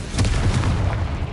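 A Confringo blasting spell goes off in Hogwarts Legacy, heard as a loud, close, deep booming burst with a rumbling tail that fills the whole moment, with no voices over it.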